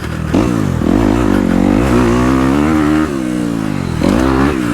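A dirt bike on a motocross track, its engine loud and close, holding a buzzing drone with rising and falling pitch as the rider works through the gears, briefly dipping before revving back up.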